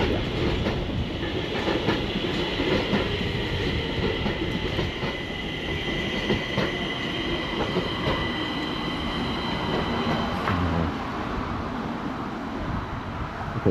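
Stockholm metro train rolling into Råcksta station, steady rumble with clickety-clack of wheels over rail joints and faint squealing tones, loud and close throughout.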